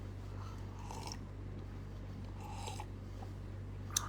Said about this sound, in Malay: Saya kunyah ya.